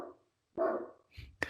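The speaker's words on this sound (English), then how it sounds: "the dogs are barking" Dogs bark in a few short bursts separated by pauses, fairly faint and distant, with a sharp yip near the end.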